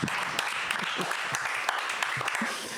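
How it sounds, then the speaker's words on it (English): An audience at a live comedy show applauds with dense, continuous clapping that stays loud and even throughout, mixed with a few scattered cheers. "give a round of applause for Kertis for his last time being here"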